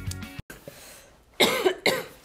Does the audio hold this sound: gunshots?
no